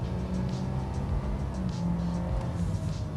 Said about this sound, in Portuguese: Vou fazer uma pequena retomada aqui. Aliás, vou colocar no modo esporte agora.